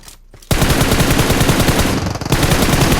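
Sustained automatic gunfire from a shooter video game, a loud continuous burst of rapid rounds starting after a brief quiet moment and running to the end with a slight dip near the middle.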